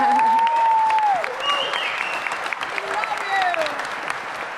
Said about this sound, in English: you guys all are clapping